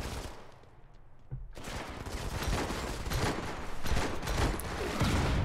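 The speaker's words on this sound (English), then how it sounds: "Long range sniper fire." Rapid gunfire crackles in a Modern Combat 5 mobile match, a dense continuous fusillade of overlapping shots that starts after a brief quieter lull and stays loud and busy throughout.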